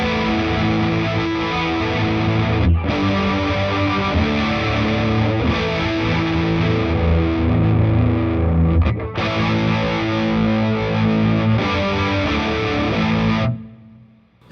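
A heavily distorted electric guitar plays sustained chords with a shimmering, wavering chorus effect, loud and continuous, ending as the notes fade.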